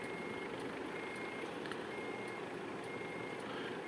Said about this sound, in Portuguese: Que caminhão top de linha, galera.